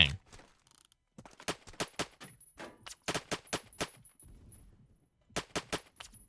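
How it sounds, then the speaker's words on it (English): Bursts of gunfire from the online shooter game Phantom Forces, loud sharp shots fired in rapid strings with short pauses, one volley near the start and another toward the end, with no talking. "they're trying to shoot at me from below"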